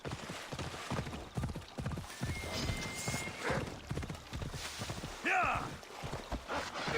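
Horse hooves clip-clop at a steady gallop in the video game Assassin's Creed Odyssey, loud rhythmic beats close by, with a whinny near the end and a voice talking over it.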